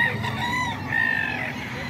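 Roosters crow at a chicken seller's place in Bocaue, a drawn-out cock-a-doodle-doo rising over clucking fowl and steady background noise, close and fairly loud.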